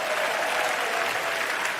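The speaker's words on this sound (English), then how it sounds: "Give him a huge round of applause." Dense, steady applause from a TED talk audience fills the whole stretch, an even wash of many hands clapping at once without a break.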